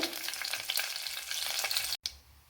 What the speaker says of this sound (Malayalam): ഇനി ഇതിലേക്ക് ഉലുവ മൂത്ത് വന്നിട്ടുണ്ട്